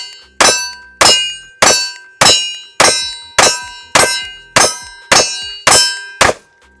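A ported CZ P-10C pistol fires ten evenly spaced shots at steel targets, each loud crack followed by a bright ringing clang that decays before the next round, with no talking.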